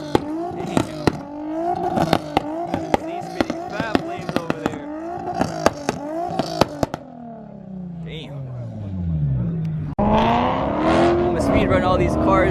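Cars at an underground car meet in Tokyo drift with squealing tyres, and sharp cracks and pops ring out in a fast rhythm, followed by a revving engine and the loud roar of a passing car.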